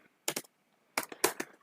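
Typing on a computer keyboard while writing JavaScript code: a few quick, close key clicks in two short bursts separated by a brief pause, alone without speech.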